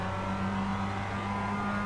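A Mazda race car engine in the iRacing sim, Advanced Mazda Cup at Silverstone, holds a steady, loud droning note throughout with no talking.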